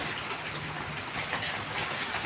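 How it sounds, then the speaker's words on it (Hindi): Heavy rain pours down in the first rain of the summer season, following a storm. A dense, even hiss of drops striking surfaces runs unbroken and close throughout. "अब देखो क्या झमाझम बारिश हो गई"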